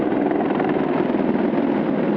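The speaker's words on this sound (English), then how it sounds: "Their Apache helicopters are nicknamed the Guardians. They're attack helicopters that can fly for over 3 hours." An Apache attack helicopter flying overhead during an Army-Navy game flyover, a loud, steady rotor and engine roar filling the whole stretch with no pauses.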